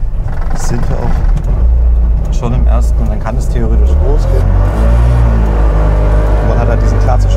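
A 1990 Trabant 601L pulls away in first gear, its small engine droning loudly inside the car and rising in revs, while someone talks over the noise.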